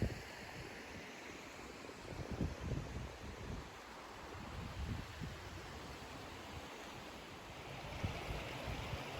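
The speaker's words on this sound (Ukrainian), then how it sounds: "Це невеличкий водоспад висотою півтора метра." Continuous rushing water noise, broad and steady, like a small cascade heard nearby with some wind buffeting the microphone; a 1.5-metre waterfall in the Carpathians near Tatariv.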